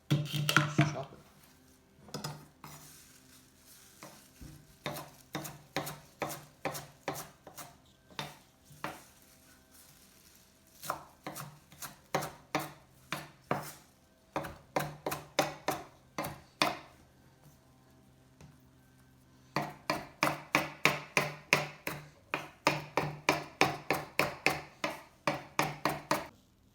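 A kitchen knife chops washed greens on a cutting board in a steady run of sharp, rhythmic strikes, with short pauses between bursts and a faster, denser flurry near the end; no one talks.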